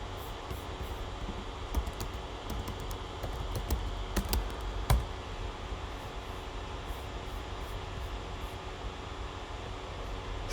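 Computer keyboard typing at a quiet desk, a handful of soft, scattered keystroke clicks with one sharper tap, faint against a steady background hiss.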